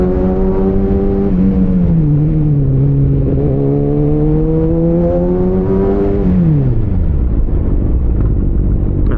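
Motorcycle fitted with Brembo RCS17 Corsa Corta brakes and Spiegler lines slowing under a hard front-brake test with ABS working, its engine note close and loud, droning steadily and then dropping sharply in pitch as the bike decelerates.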